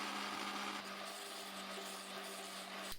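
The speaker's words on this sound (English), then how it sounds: "Get your blender jar and let's start our process of blending the beautiful apples." A kitchen blender whirs steadily while blending apples for homemade applesauce, a continuous high motor whine with a steady hum, fairly faint, cutting off abruptly at the end.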